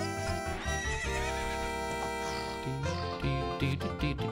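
A horse whinnies in The Legend of Zelda: Ocarina of Time, sounding clearly over continuous game music, with a few hoof clops toward the end.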